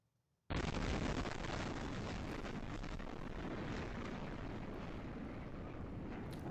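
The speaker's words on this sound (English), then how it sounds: "It is tough to hear that explosion coming through security video" A UPS cargo plane crash explosion caught on a security camera: after a short silence a sudden loud broadband blast erupts and becomes a sustained, roaring rumble that continues steadily to the end.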